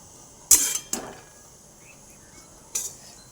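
Moong dal flour is sautéed in a pan for halwa, with a few sharp metallic knocks of a spoon against the pan separated by quiet stretches and no talking.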